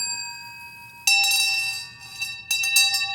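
A bright metallic bell rings twice in quick succession, close and clear, each strike sustaining with shimmering overtones over a quiet background.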